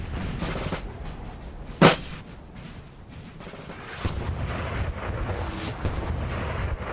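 Muskets fire in Napoleon Total War during a multiplayer battle involving the Old Guard and Jaegers: one sharp, loud crack stands out, followed by rumbling, rolling gunfire and distant volleys blending into battle noise.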